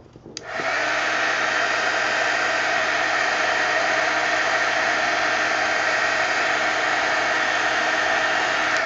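A handheld dryer blows steadily on freshly inked art journal pages, switching on abruptly and then holding a loud, even whirring roar with no talking.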